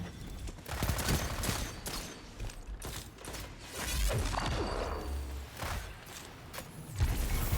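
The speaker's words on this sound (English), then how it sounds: "Oh, that's a massive nade." Gameplay from the shooter Destiny 2 carries a grenade blast amid rapid weapon fire, with repeated sharp bursts, crashes and whooshes at moderate loudness, dense and continuous, with no talk.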